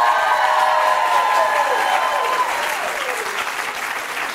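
A large audience at a live Paley panel for Queen Charlotte: A Bridgerton Story applauds the director Tom Verica, loud and dense clapping with cheers that tapers off slowly toward the end.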